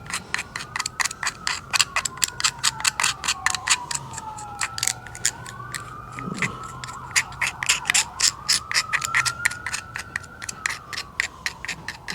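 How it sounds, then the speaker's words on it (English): Rapid rhythmic scratching of a tool scraping old grease out of the headlight motor of a 1994 C4 Corvette, steady close strokes with a faint whirring squeal running underneath. "I'm gonna come and just scrape all this stuff out."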